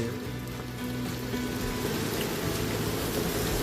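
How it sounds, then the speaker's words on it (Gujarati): Steady, dense rain hisses continuously, a broad wash of noise with a low rumble underneath and no voices. "વરસાદ એટલો પડે."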